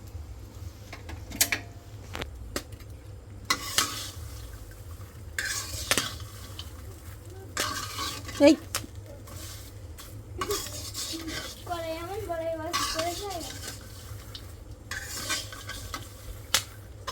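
Spoon scraping and stirring food in a frying pan with soft sizzling, intermittent clinks of utensil on pan, quiet and close, with occasional speech.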